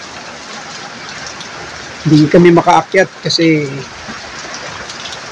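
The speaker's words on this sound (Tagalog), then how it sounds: "Ito yung panahon sa labas, oh, lakas ng ulan." Steady broadband rain hiss fills the whole clip, with a person speaking briefly over it in the middle.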